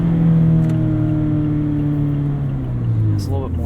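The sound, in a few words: engine of a 2017 Mazda MX-5 Miata RF revving while driving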